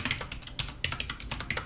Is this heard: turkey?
no